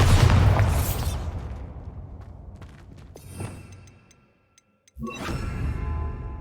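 A Bombarda blasting spell goes off in Hogwarts Legacy, a loud booming burst that rolls into a long decaying rumble, followed by a brief silence and then a second sharp impact with crackling debris.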